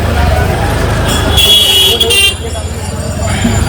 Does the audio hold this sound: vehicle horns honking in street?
yes